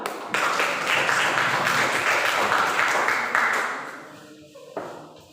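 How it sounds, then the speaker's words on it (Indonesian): Applause from a classroom group of teachers and students at the end of a lesson, a steady burst of clapping lasting several seconds, then thinning out and fading, with one brief late clap. "Tepuk tangan untuk kita semua."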